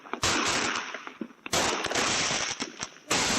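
Fourth of July fireworks from a fail compilation: three loud, close explosive bursts, each a sharp bang followed by a sustained crackling hiss, separated by brief quieter gaps.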